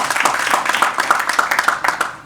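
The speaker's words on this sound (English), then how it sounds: "please applaud" Studio audience applauding at a leadership summit, a dense, steady patter of many hands clapping close by, sustained without pause.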